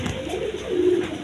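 Breeding pigeons on a farm coo softly at close range, one low, throaty, rolling call under faint background hiss.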